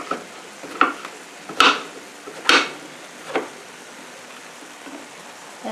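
Food browning in a frying pan sizzles softly and steadily, broken by about five sharp scrapes and stirs at irregular intervals, close by with no talk.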